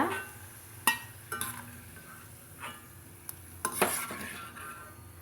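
Dried drumstick vathal frying in hot oil in a pan: a soft sizzle under sharp metal clinks and scrapes from a spoon against the vessel, coming in irregular bursts.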